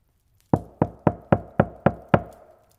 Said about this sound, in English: A knock at the door interrupted his thoughts.